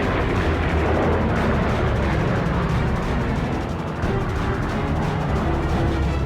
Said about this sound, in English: The airfield below erupts with anti-aircraft fire.